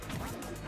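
A duck from the Duck Hunt fighter takes a hit during a Super Smash Bros. Wii U tournament match, a short quack and smack blending into dense game noise.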